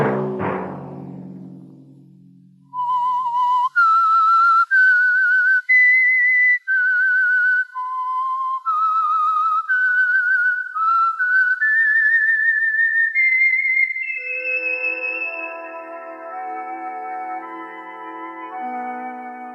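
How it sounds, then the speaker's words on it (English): A clear whistled melody, sustained notes stepping up and down, fairly loud and close, following a short low rumble at the start. "Let that whistle be your signal"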